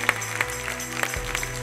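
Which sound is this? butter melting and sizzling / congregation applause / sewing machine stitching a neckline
congregation applause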